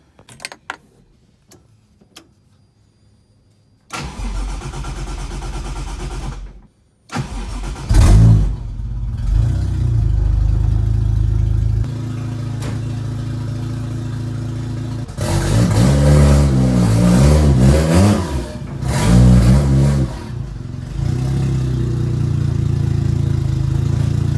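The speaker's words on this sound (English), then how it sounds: "so the car is on, we let it run." A Nissan 240sx engine runs after a hard start, with a few short cranks and bursts before it catches, then idles and revs steadily up close, swelling louder near the end.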